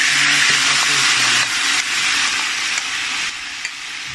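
Tomato paste fries in a pan for ojhri tripe curry, giving a loud, steady sizzle and hiss with soft stirring scrapes throughout.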